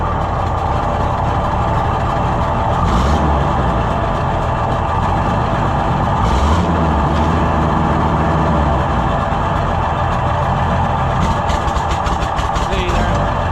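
A junkyard Super 77 engine with a new carburetor runs loud and steady at close range, its rough revving rising and falling in a couple of surges, with voices talking over it.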